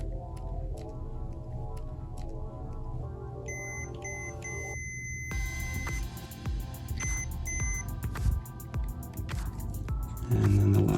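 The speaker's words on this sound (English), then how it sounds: "Last thing we could do with our multimeter is check for continuity." A multimeter beeps during a continuity test on a 30A shore power cord. Several steady electronic tones come in short bursts and longer holds, close and clear, with some handling noise around them.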